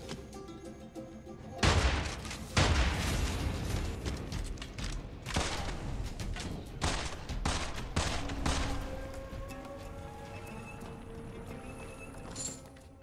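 A burst of gunfire in the game Immortal Redneck, with sharp, repeated shots and booms over a steady game soundscape, loud at first, then sparser shots fading toward the end.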